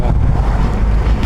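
Wind roars loudly and steadily through an open window of a moving Innova Crysta car, a continuous heavy low rumble that fills the whole moment.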